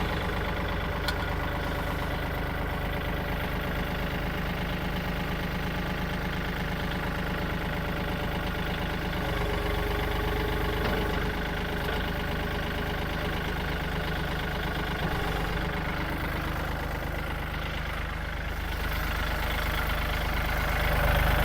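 A 2022 Kubota L4018 tractor diesel idles steadily and close by, a continuous low rumble holding an even rhythm throughout with no talking.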